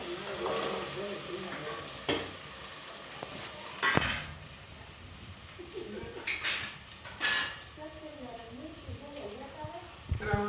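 Sweet potatoes are tipped into a pan of sizzling cumin and onion and stirred, with steady frying hiss, scraping and sharp metal clinks of a spoon against the pan, under a person talking.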